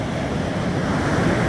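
Ocean waves splash onto a beach and echo off a nearby dune, a steady, close, full-bodied wash of surf that rolls on without pause and with no voices over it.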